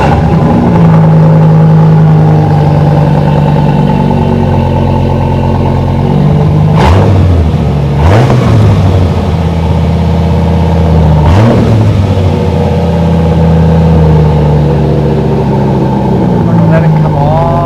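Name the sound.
Dodge Ram SRT-10 Viper V10 truck engine revving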